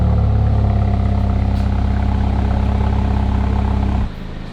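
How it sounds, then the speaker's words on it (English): A new car's engine idles with a steady, loud exhaust note, a constant low droning hum that holds evenly before dropping abruptly to a quieter level near the end. "It's actually got a really good exhaust note."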